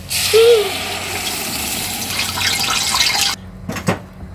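Blended molokhia poured into a hot pot on the stove, a steady loud wet pouring hiss that fades out, followed by a brief sizzle near the end.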